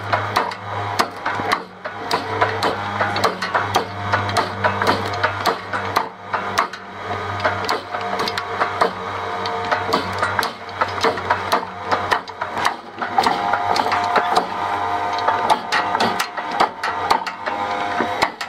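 A homemade gasoline granule generator machine runs steadily, making a loud, rapid mechanical clatter of repeated ticks and knocks over a constant low motor hum.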